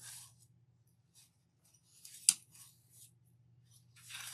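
Ambidextrous scissors cutting ribbon for a door hanger craft, a few quiet, crisp snips and rustles close by, with one sharper cut in the middle over a low background hum.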